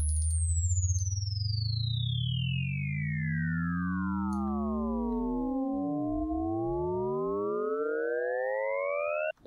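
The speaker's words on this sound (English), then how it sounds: "it's a sort of a ring modulated, like sine wave sound" Smooth sine tones sweep against each other, some gliding up and others down, forming a shimmering, ring-modulated riser that builds steadily and cuts off abruptly.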